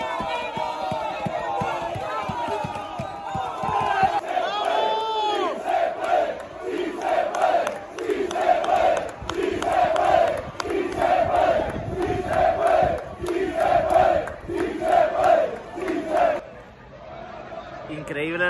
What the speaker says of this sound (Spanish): Increíble el recibimiento a Las Palmas, esto tiene que ser hoy.